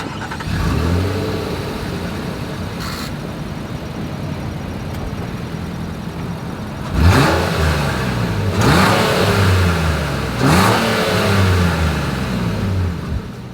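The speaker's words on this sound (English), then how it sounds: "As always, here is that exhaust clip." Exhaust of a 2023 Nissan Pathfinder heard up close at idle, then revved in three strong throttle blips a couple of seconds apart, each rising and falling back to idle.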